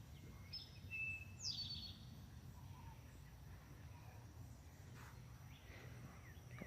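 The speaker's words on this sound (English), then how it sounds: "listening to the birds sing." Birds, including a dove, sing outdoors on a cool evening with a light breeze, giving faint scattered chirps and calls against a quiet background.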